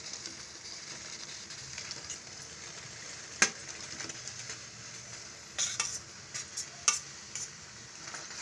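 Basmati rice is stirred into dried-down prawn biryani gravy in a pan, giving a faint steady sizzle with scattered scraping and clinking from the spoon against the metal.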